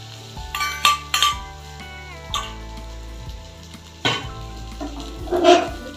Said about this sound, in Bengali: এবার আমি এই বেগুনগুলোর ওপর দিয়ে ডিমের ব্যাটারটা দিয়ে দিচ্ছি